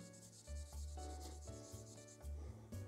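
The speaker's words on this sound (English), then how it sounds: "let's see if we can scrape off some of this old thermal paste and apply a new coat" Old thermal paste is scraped off a processor in a Dell Optiplex SX270 computer, giving repeated close rubbing strokes in a steady back-and-forth rhythm with a faint background hum.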